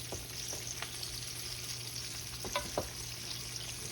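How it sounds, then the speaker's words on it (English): Breaded pork steaks fry in a pan with a steady, close sizzle and a few soft clicks and taps of handling, with no one talking. "So we're gonna see here how many I'm gonna fry off here."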